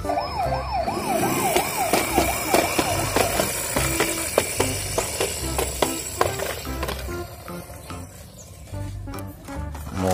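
Toy diecast police car with a wailing siren sweeping up and down, mixed with clicks and clatter of handling and other toy noises, loud and close, fading into scattered knocks.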